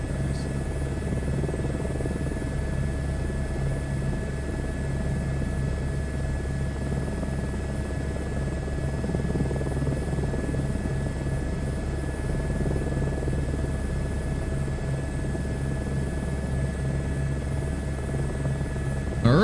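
An Airbus helicopter taxies in Microsoft Flight Simulator 2024, with a steady, droning turbine and rotor hum that holds at the same level throughout and no voices.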